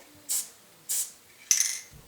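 Three short hissing bursts from a spray can of paint, evenly spaced, the last one slightly longer and sharper.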